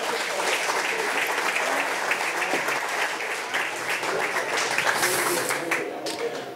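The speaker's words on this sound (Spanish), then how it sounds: "Un aplauso para todo el que tuvo que ver con la organización" Patrons in a Barranquilla nightclub applaud the event organizers, sustained dense clapping that swells and holds for several seconds at fairly close range, with a few louder claps and cheers near the end.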